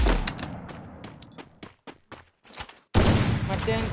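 Rapid bursts of gunfire in the video game Free Fire crackle and echo in quick succession, then a dense louder volley takes over toward the end.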